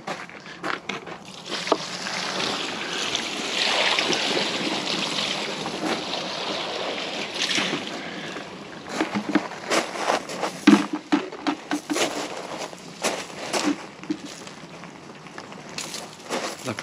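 Hot water hoses across a Skoda Fabia vRS engine bay, a steady broad hiss of spray that breaks into choppy splashes and spatters further on, loud and close with no talking.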